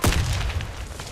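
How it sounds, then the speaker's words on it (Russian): A thrown grenade explodes in the video game Warface, a single deep, loud boom with a sharp onset that rolls off into a rumbling tail. "Кидаю гранату!"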